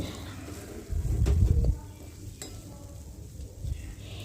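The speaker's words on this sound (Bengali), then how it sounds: "বেশ খানিকক্ষণ সময় ধরে লো আঁচেতে মাছটাকে ভেজে ভেজে একেবারে ছোটো ছোটো ছোটো ছোটো শুকনো শুকনো করে নিতে হবে" Fish fries slowly on low heat into small dry crumbs, with a soft sizzle and a brief burst of stirring and scraping in the pan, then a quieter hiss that carries on.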